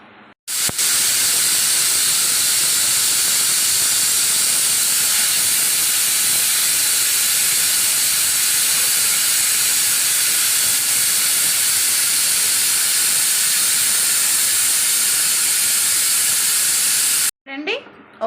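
Pressure cooker on the stove cooking chicken curry, letting out a loud continuous hissing jet of steam that holds steady for about seventeen seconds before cutting off, with no talk.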